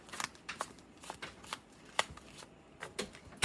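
Tarot cards being handled and shuffled from a deck, a series of quick crisp flicks and riffles at close range, with irregular soft pauses between them.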